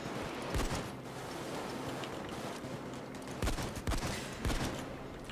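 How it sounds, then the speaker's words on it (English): Shotgun blasts in the video game Payday 2, several sharp booming shots fired in quick irregular bursts over a constant noisy game background, fairly close, no talking. "this is the power of a completely overpowered clearing shotgun"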